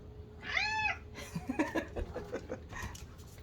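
A pet cat at home gives one clear, drawn-out meow close by, followed by a string of short chirping meows and trills, with faint room noise underneath.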